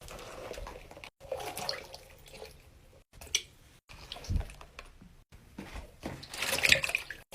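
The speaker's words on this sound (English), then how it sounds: "The sink is filled now, so I'm going to go get the stress balls and put them in the water." Stress balls squished and moved around in a sink full of water, giving soft wet squelches, sloshes and drips in irregular bursts, close and fairly quiet, with a louder splashy flurry near the end.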